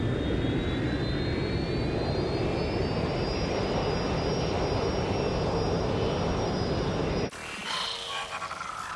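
A passenger jet, the Delta 39 heavy airliner from Watch Dogs Legion, roars steadily overhead with a rising whine, loud and continuous, before cutting off abruptly near the end into quieter game ambience.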